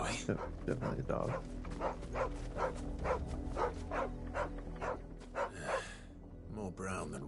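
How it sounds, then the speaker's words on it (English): A brown-and-white female dog in Final Fantasy 16 gives a run of short, evenly spaced barks and yips, moderately close, mixed with game voices talking. "No, definitely a dog."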